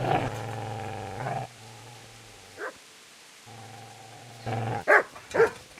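Growls and snarls from a hostile dog in the medieval video game Kingdom Come: Deliverance, with two sustained rumbling bursts at the start and middle and sharp barks near the end, close and fairly loud.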